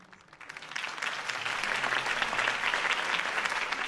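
Crowd at a campaign rally in Batman: The Telltale Series applauds Harvey Dent's speech, the clapping swelling from light to a dense, steady roar of many hands.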